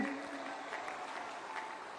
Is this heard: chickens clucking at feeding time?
no